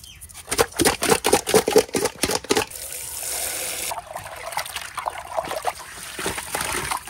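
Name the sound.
washing Rita fish with salt and water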